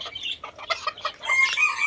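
Tom Tam bantam chickens in Khon Kaen cluck in short, quick bursts close by, the calls growing busier and more overlapping toward the end.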